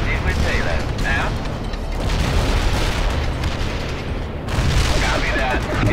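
Heavy artillery barrage in the real-time strategy game World in Conflict, a dense, continuous rumble of booms and explosions with bursts of gunfire, loud and sustained throughout, with radio-style voices talking over it.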